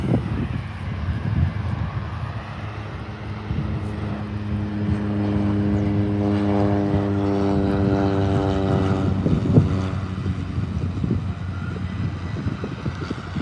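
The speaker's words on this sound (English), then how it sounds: "Just that little caravan, Cessna caravan, was what we're all waiting for." A Cessna Caravan turboprop at Adelaide Airport passes with a rising, droning propeller tone that swells to a peak mid-clip and then fades, heard over light wind noise.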